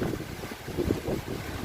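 Strong wind buffets the microphone at the Binmaley baywalk in Pangasinan, a low, continuous rumbling gust with uneven swells and no voices.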